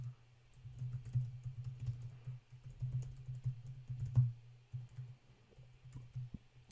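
Computer keyboard typing, soft and close, with irregular light key clicks over a low steady hum and no voices.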